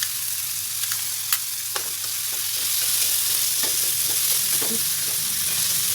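Mushrooms stir-fried in a pan for a vegetarian shark-fin-style soup, giving a steady close sizzle with repeated scraping and stirring clicks throughout, no voices.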